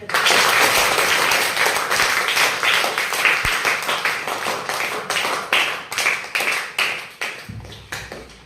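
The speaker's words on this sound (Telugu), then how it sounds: "క్లాప్స్ పట్టండి." Schoolchildren in a fifth-grade classroom clap their hands together, a lively, uneven round of applause with sharp slaps that keeps going and slowly thins out, fairly close, no talking over it.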